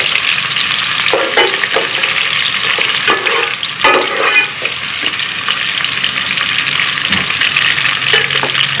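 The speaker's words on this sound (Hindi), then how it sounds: "अब प्याज डालूंगी इसमें और कलौंजी थोड़ी सी।" Onions and kalonji seeds fry in hot tempering oil in a pan, a loud continuous sizzle with occasional stirring scrapes, close and without talk.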